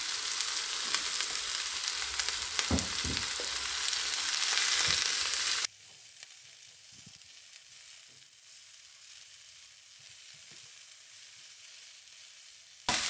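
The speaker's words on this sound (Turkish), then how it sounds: "Kavrulan salçamızın üzerine pancar yapraklarımı ilave ediyorum. Karıştıracağım ve alt üst edeceğim." Beet leaves frying and being stirred into sautéed tomato paste in a pan, a loud steady sizzle with stirring knocks that drops abruptly to a much quieter simmer partway through.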